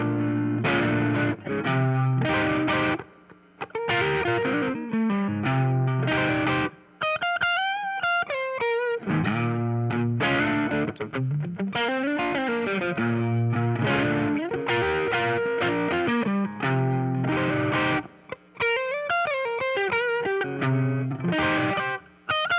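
An electric guitar with vintage 50's-style Stratocaster single-coil pickups plays through overdrive, with distorted chords and melodic runs in continuous phrases and a few brief pauses.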